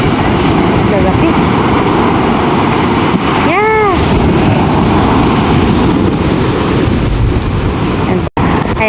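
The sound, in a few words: sea waves heard from a boat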